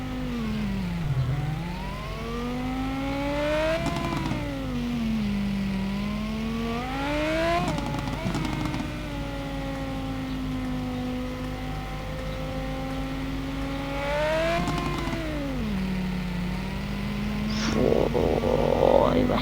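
A BMW M5 engine in the driving game Driving School Simulator EVO revs repeatedly, pitch climbing and dropping through several gear-like sweeps, a steady close engine drone running throughout.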